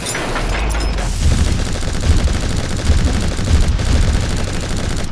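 Dense, continuous rumbling barrage of rapid booming shots, loud and unbroken, like heavy cannon fire in a game.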